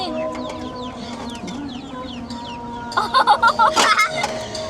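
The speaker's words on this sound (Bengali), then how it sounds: "লালি যে রাগি মুরগি" A hen clucks nearby in a rural yard, with a short burst of loud rhythmic clucks near the end over background bird chirps.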